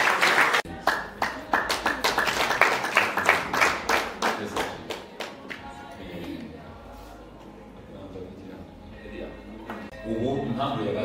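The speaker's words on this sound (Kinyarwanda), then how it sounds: "babahaye mu amashyi" A group of guests at a wedding claps for the couple in a burst of rhythmic applause that swells and then tapers off, leaving faint murmuring and voices in the background.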